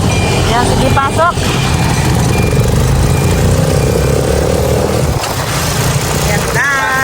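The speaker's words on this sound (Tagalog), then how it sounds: "May mga motor." Motorcycles pass along a busy roadside in Barangay Iberica, Labo, Camarines Norte, with a loud, steady engine rumble that rises and fades as the bikes go by, alongside other traffic and people talking nearby.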